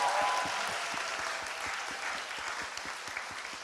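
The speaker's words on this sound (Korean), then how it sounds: "여러분 큰 박수 부탁드리겠습니다." A studio audience at a Korean talk show bursts into steady, full applause for a guest, a thick wash of many hands clapping that eases slightly toward the end.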